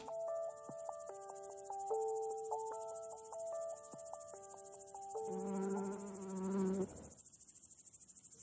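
A wasp buzzes around an orchid flower with a close, wavering wing hum lasting under two seconds, preceded by a stretch of steady electronic tones.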